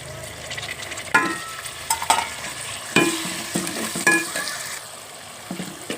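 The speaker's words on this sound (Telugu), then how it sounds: "ఉల్లిపాయ కూడా వేగిపోయింది ఇప్పుడు ఇందులో టమాటా ముక్కలు వేసేద్దాం" Tomato pieces tipped into frying onions for an egg and crab curry crackle and sizzle loudly up close, with repeated sharp stirring clatters of a spoon against the pan.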